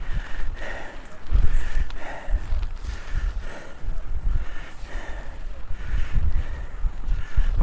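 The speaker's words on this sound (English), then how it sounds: "It's very windy" Strong gusting wind in the Mourne Mountains buffets the microphone in continuous roaring bursts at a tarp shelter camp, loud and rumbling with no talk over it.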